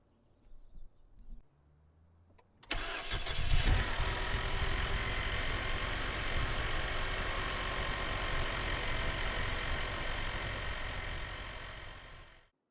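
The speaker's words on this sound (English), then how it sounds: "Let's start up the engine and make sure everything is good to go." A Mercedes C-Class W204 with the 1.8L turbo engine cranks and fires after a couple of seconds of quiet clatter, then settles into a steady, close, loud idle that runs on until the end.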